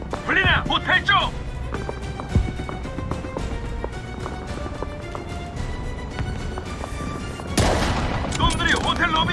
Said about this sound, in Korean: 놈들이 호텔 로비 위에서 쏘고 있어!